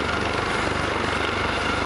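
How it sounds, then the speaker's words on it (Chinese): Military helicopters, eleven in two formations, roar past in a close, loud, steady rotor and engine drone during an aerobatic flyover display at the Tianjin International Helicopter Expo. "这场直升机空中特技表演，11架直升机分成2个编队，组成八一字样通场飞行"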